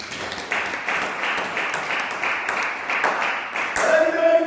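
A church congregation applauds in praise, a steady wash of many hands clapping that rises and falls in waves and swells near the end, with a faint voice underneath.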